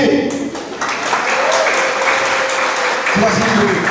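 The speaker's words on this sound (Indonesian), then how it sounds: "Boleh nggak tepuk tangan untuk Buki?" A church youth service congregation in Palembang breaks into applause, many hands clapping in a loud, sustained wash with some background voices mixed in.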